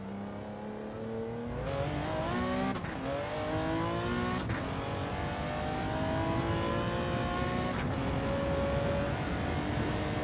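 A race car engine in a sim racing video game revs hard and climbs through the gears, loud and close, with sharp shift breaks and steadily rising whine.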